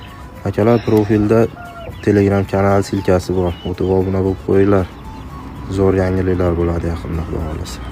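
Shamo fighting roosters, including Japanese Shamo and Ganoya breeds, crow and cluck while someone speaks almost continuously over them.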